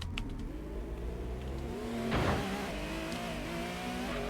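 A Dodge Viper race car engine in the racing game Gran Turismo 1 holds a steady, strained drone, then surges in a brief rev or shift midway before settling back to a constant pitch; no voices.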